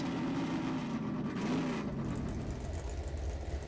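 A car engine revs hard and steadily in Half-Life 2 Episode Two, a dense, loud, continuous roar with pitch swells as the vehicle accelerates, with no voices over it.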